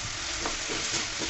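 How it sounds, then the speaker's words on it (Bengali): Chicken pieces fry in hot oil as the remaining water cooks off, giving a dense, continuous close-up sizzle with faint stirring movements beneath and no talking. "পানিগুলোকে শুকিয়ে মাংসটাকে একদম ভাজা ভাজা করে নিব তেলের মধ্যে।"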